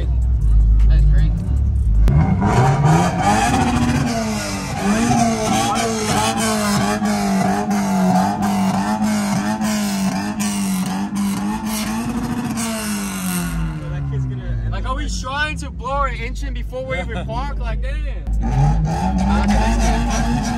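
A 1300-horsepower Dodge Hellcat engine revs loudly and repeatedly at a car meet, rising and falling in pitch with a throaty roar, alongside people talking nearby.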